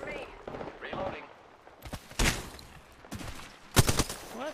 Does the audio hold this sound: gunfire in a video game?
yes